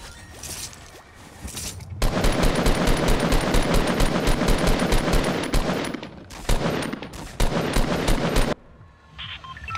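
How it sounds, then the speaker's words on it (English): Automatic gunfire from a video game rattles out in long, loud, rapid bursts with brief pauses between them, close and dominating, with no talk over it. "literally Ninja shoots him with a shot"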